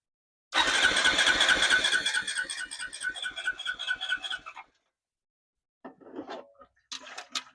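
A ten-year-old Honda engine on a golf cart fires up and runs roughly for about four seconds in a loud, fast mechanical chatter that sputters out, followed by silence and a couple of brief sputtering catches.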